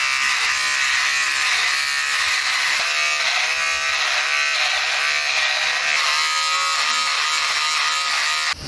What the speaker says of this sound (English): I think I'm gonna shave this a little bit.